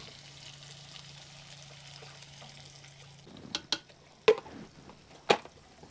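Beaten egg is added to sizzling squash in a pan for squash-and-egg tacos cooked outdoors in the countryside, a soft low frying hiss giving way to several sharp stirring clinks and scrapes.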